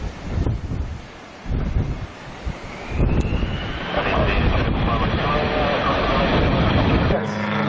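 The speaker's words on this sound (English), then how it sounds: "There goes the airplane." An airplane flies past in strong wind, a rising, broad roar that swells and holds loud under heavy wind buffeting on the microphone, with excited voices shouting nearby.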